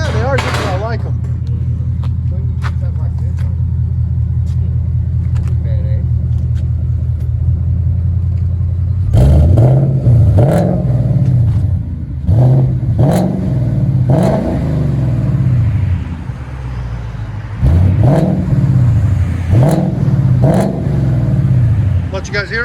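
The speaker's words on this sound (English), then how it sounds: "Came out really nice, really smooth sound with an H-pipe." A 2020 Ford Mustang GT 5.0 Coyote V8 with Borla Pro XS dual exhaust and H-pipe idles with a deep rumble, then revs repeatedly in loud bursts, the exhaust roaring and settling between each throttle blip.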